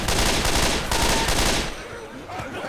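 Gunfire in the Left 4 Dead video game, a rapid burst of loud shots in the first half that cuts off and leaves quieter game sounds behind.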